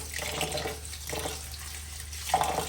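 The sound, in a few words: rice being washed under running tap water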